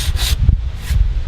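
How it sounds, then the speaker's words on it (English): Previously painted wood is scrubbed with 100 grit sandpaper in quick, close back-and-forth strokes, producing short rasping bursts. "The sandpaper I'm using is like 100 grit, but you could use 80."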